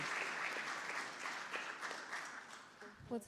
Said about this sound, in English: Let's give them another round of applause out of our own Callis Park